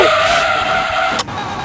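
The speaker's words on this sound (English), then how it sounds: "why is this car juddering like crazy?" A Formula One race car adapted for road use skids loudly up close, tires squealing over a high, steady engine whine that cuts off abruptly near the end.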